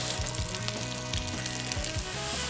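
Mushrooms sizzle steadily in a hot buttered pan, a constant crackle with a few scrapes of stirring over it.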